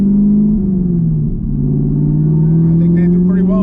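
A Whipple supercharged Camaro on Nitto NT555R2 tires accelerating: a loud, close, steady engine drone with a slight dip and then a gradual rise in pitch, and no tire squeal.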